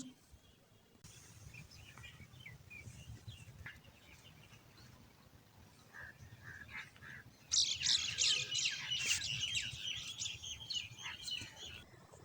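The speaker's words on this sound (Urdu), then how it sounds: "آپ نے بہت ہی خوبصورت پرندوں کی آوازیں بھی سن لی ہوں گی" Small birds chirp and tweet in a village setting, a faint scattered backdrop that swells into a louder, dense burst of high calls in the second half, with low rural ambience throughout.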